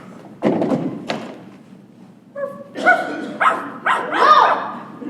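A dog in a stage dog act gives a run of short, sharp barks and yips, close and fairly loud, with a thump early on.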